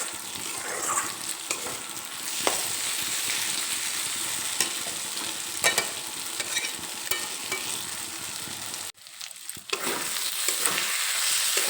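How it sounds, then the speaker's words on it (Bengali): Red lentils fry with spices in a pan, a constant close sizzle with occasional stirring scrapes and a brief dip in the noise near the end, no one speaking. "মসুর ডালটা মশলার সঙ্গে কিছুক্ষণ কষিয়ে নেব"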